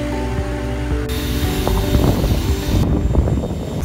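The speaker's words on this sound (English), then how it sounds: "20-minute plane ride back to the mainland sure beats an 8-hour ferry." Propeller airplane cabin noise on a short flight from the Corn Islands to Bluefields on the Nicaraguan mainland, a steady loud engine drone and roar with tonal hum, no talk.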